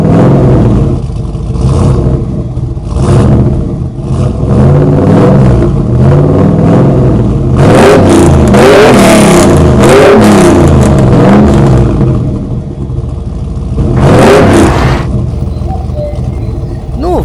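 Cartoon car off-roading with only its rear wheels driven, stuck in a muddy puddle: the engine revs in rising and falling whines that peak midway, with busy background sound throughout.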